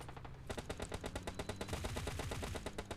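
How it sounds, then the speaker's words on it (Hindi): Rapid automatic gunfire in the PUBG battle game, fired at a fast car, a steady burst of evenly spaced shots running nearly three seconds, fairly quiet, no talk. "मैं उस गाड़ी पे गोलियां चलाने लगा"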